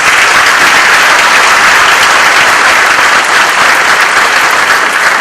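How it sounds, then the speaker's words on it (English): Sustained, dense applause from a large crowd, loud and steady throughout with no voices breaking through. "Let's give them a round of applause."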